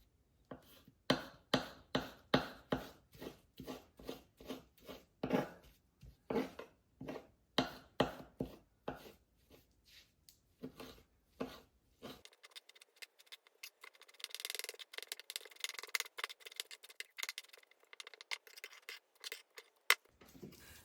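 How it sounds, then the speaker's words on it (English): Knife dicing blanched stinging nettles on a cutting board: rapid, steady chopping strokes close up for about twelve seconds, then a busier scraping, rustling stretch of softer cuts, with no talking. "Drain and dice up the blanched nettles."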